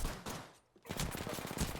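Rapid gunfire from a fight in the video game Apex Legends, with loud bursts of automatic shots before a brief lull and a dense stream of repeated shots after it.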